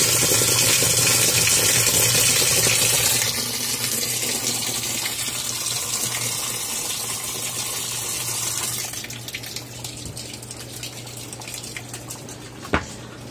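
Water gushes and splashes into the drum of a twin tub washing machine, a loud continuous pour that eases and softens partway through, ending with a faint trickle and a single knock.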